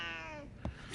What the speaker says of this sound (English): Cat's like meow meow meow meow.